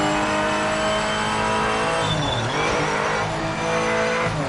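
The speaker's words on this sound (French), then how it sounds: "Et là on va dire que je vais rentrer au stand," A race car in the Project Motor Racing video game drives into the pit lane, its engine a loud steady tonal drone that dips and swells briefly mid-way, with a faint tire squeal, no talk.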